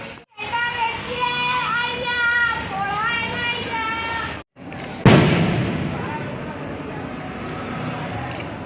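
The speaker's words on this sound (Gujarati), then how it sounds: "આ છોકરાઓ બધા ફટાકડા ફોડે છે અહીંયા" Children setting off firecrackers outdoors on Dhanteras: excited children's voices chatter, then a single sharp, loud bang bursts close by and fades into a lingering rumble.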